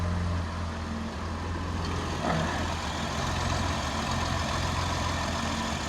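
A 2008 Jeep Wrangler's 3.8 liter engine idles with a steady, low rumble, heard close and continuously with no talk.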